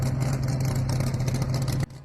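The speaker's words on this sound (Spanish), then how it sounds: "Por fin llegó el momento en que el ruido de un coche anunció la llegada de la abuelita de Clara." A car engine hums steadily at close range, a continuous low drone with no voices, then cuts off abruptly near the end.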